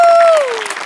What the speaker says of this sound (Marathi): दशरथ आणि आपले सगळे सेटिंगवाले यांच्यासाठी एकदा जोरदार टाळ्या